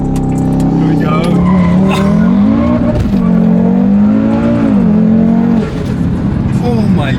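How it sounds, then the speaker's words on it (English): An Audi RS3 is driven hard, and its engine drones loudly with rising and falling pitch as it accelerates. Tire noise and occasional squeal sounds close from inside the cabin, and voices can be heard faintly among the road sound. "We're on a ride right now in the RS3."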